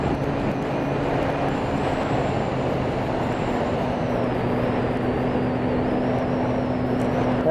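A Honda CB400 motorcycle engine drones steadily while cruising, with a sustained low harmonic hum and broad road and wind noise running unbroken throughout, its tone rising slightly as the extra valves engage.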